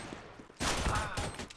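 A sudden burst of gunfire in CS:GO on the Inferno map, a loud rattling volley of several shots following a quiet moment.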